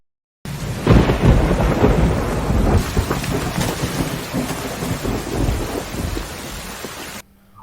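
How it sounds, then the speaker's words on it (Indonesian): Heavy rain pours down at night, a loud, dense, steady downpour with rolling thunder rumbling through it for several seconds, with no voices. "Hujan turun sangat deras malam itu."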